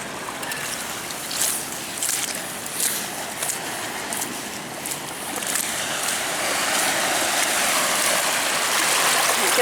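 A knobbly clay pipe swished and rinsed in Thames river water, steady splashing and trickling close by with a rising rush of water toward the end.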